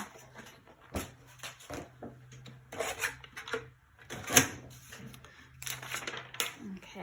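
Paper card being trimmed all the way around its edges during cardmaking, a quiet series of irregular snips and crisp cuts with small clicks and pauses between them.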